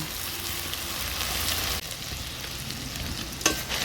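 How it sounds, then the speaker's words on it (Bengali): Mustard and poppy seed paste for a pabda fish curry being stirred in a pan, giving a steady wash of hissing sizzle with scraping strokes throughout and a brief clink near the end; no one speaks. "দিয়ে দিচ্ছি সর্ষে পোস্ত বাটা। ভালো করে নেড়ে চেড়ে নিচ্ছি।"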